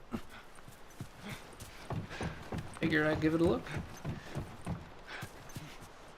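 A horse's hooves clip-clop in a steady walking rhythm in the video game The Last of Us. A brief whinny rises partway through, and someone talks over it.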